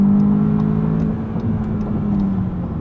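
A 2020 Volkswagen Jetta GLI Autobahn with a six-speed manual accelerates hard up a highway on-ramp, its engine note steady and droning close by from the cabin over road and wind noise, with no talking.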